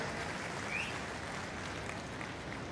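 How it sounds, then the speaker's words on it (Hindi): Distant, steady applause from a crowd, a soft continuous patter of clapping throughout. "मैं चाहता हूं एक बार जोरदार ताली उनके लिए बजाएं"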